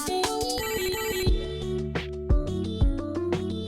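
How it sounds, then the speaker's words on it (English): A video game phone ringtone plays a bright, repeating electronic melody with several sharp bass thumps mixed in, loud and clear with no talk over it. "I love that the dog got a phone call on Caesar's phone."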